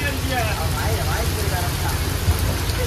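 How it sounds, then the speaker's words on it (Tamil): Heavy rain pours steadily onto a deep-sea fishing boat in strong wind at sea, a dense, loud hiss and patter with deep rumbling underneath and muffled voices in the background. "ஃபுல் ஃபோர்ஸா உந்துகிட்டே இருக்கு மழை"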